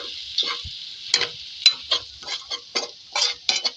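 Turmeric being stirred into a spinach and egg mixture in a pan, with a steady frying sizzle under a series of scraping strokes at an uneven rhythm, close and clear, no talk.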